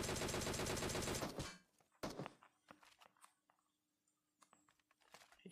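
Burst of rapid automatic gunfire in PUBG Mobile, loud and dense for over a second, then a few scattered single shots and thuds at a distance over quieter game ambience.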